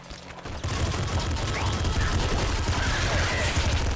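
Gunfire in the video game Nuclear Throne, a dense continuous barrage of rapid shots starting abruptly and holding loud and steady to the end.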